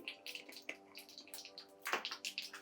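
Mustard seeds and cumin splutter in hot oil for onion rice, with quiet, irregular crackling pops bursting close over a faint steady hum, and no voices.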